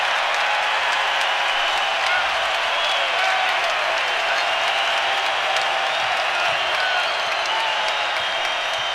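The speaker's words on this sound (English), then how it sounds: "Deuce Ristich calling the crowd out" A crowd in a basketball arena at a 2017 California versus Arizona college game roars steadily and loudly throughout, a dense unbroken wash of cheering and noise.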